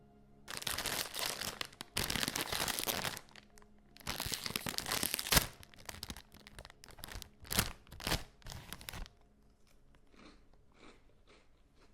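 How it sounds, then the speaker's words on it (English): A candy wrapper is slowly crinkled and unwrapped up close, loud bursts of crackling plastic alternating with brief pauses, then fading to scattered faint crinkles near the end. "someone behind you is unwrapping a candy"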